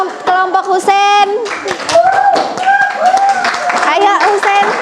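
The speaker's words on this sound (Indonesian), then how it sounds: "Kita berikan tepuk tangan dulu dong untuk kelompok Husen." A classroom of pupils claps hands for a group coming forward, the quick uneven clapping mixed with loud children's voices calling and cheering close by.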